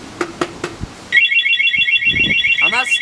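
Stels Delta 200 motorcycle alarm arming, a loud, steady electronic warbling siren tone that starts after a few soft knocks and continues to the end, with faint handling noise and a brief chirp near the close.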